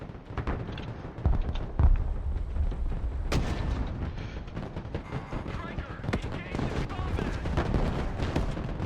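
Artillery fire mission in the war game Broken Arrow, with heavy booms and shell impacts thudding among scattered gunfire and rumbling battle noise while voices talk over it.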